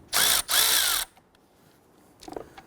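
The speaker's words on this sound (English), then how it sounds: "Using a 10mm socket, let's go ahead and loosen the ground terminal on the battery." A 10mm socket driver loosening the battery ground terminal on a 2011-2019 Ford Explorer 3.5L V6: two loud, close whirring bursts of about half a second each, then a short pause and a few quieter clicks.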